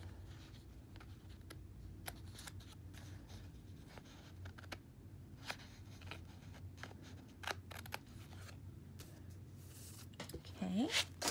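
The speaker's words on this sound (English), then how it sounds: "I'm gonna try with the Cricut scissors." Cricut scissors snip through paper in a series of sharp, close cuts at an irregular pace, quiet and mostly alone.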